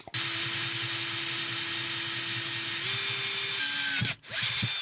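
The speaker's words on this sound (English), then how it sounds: "he's gonna take that off and use a smaller drill bit to get through." A power drill whirs continuously at a steady pitch, drilling out an anti-tamper pin with a smaller bit, shifting slightly near the end, briefly stopping, then spinning up again.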